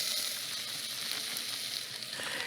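Peas and green beans sautéing in butter, a soft, even sizzle heard close and steady throughout without talk.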